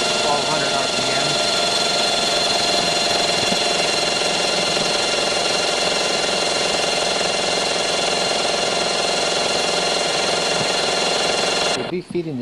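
A Model 9112 tube corrugating machine runs steadily at 1200 RPM, a loud continuous mechanical drone with a dense whine and vibration that cuts off abruptly near the end while someone talks over it.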